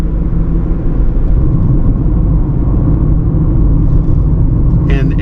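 Steady low road rumble and soft engine hum fill the cabin of a 2025 Honda CR-V Sport Touring Hybrid on the move, even and moderate throughout, with a faint brief clatter near the end.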